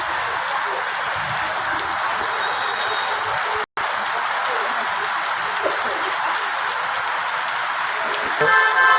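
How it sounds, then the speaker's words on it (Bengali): Heavy rain during a two-day downpour in Dhaka, a steady dense hiss of drops on surfaces filling the whole scene, with a brief dropout midway and faint traffic noise near the end. "প্রচণ্ড বৃষ্টি, প্রচুর পরিমাণে বৃষ্টি হতেছে 2 দিন ধরে"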